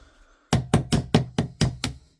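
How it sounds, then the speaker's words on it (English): A nailed pin is knocked out of a VMP1C airsoft nozzle with seven sharp, evenly spaced taps in quick succession, each a close, crisp knock with a short ring. No one speaks. "so I'm going to try knocking it through the other direction."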